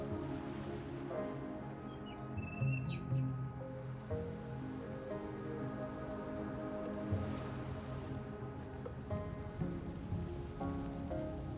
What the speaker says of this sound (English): Looks like we're getting some rain